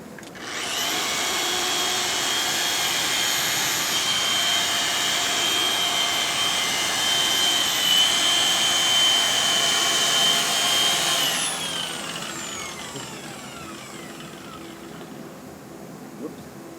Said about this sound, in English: why we suggest using a dual action sander